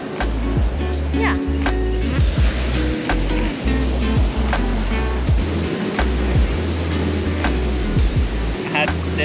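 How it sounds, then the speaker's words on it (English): Large ocean waves rolling and breaking on a beach in Puerto Escondido, Oaxaca, Mexico, a loud continuous roar of surf with wind buffeting close to the microphone, and someone talking over it. "The waves are massive here as well."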